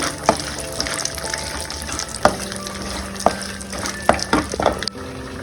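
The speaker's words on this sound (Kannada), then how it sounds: "ನೋಡಿ ಪಿಸ್ತಾ ಗೋಡಂಬಿ ಇದಾಕ್ತೀನಿ ಸ್ವಲ್ಪ ಕಂದು ಬಣ್ಣ ಬರಲಿ" Pistachios and cashews fry in a pan of ghee for ash gourd halwa, giving a steady close sizzle with occasional sharp clinks and stirring scrapes of a spoon against the pan.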